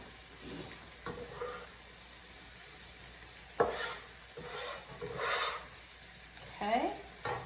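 Hamburger meat sizzles in a frying pan while a utensil scrapes and stirs it in short bursts, the steady frying hiss running underneath the louder stirring strokes.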